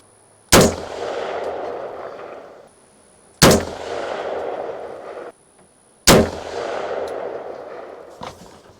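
Three sharp rifle shots ring out from an AR-15 target upper firing 55 grain rounds at a target, spaced about three seconds apart, each loud and close with a short sharp crack followed by a rolling echo that fades out.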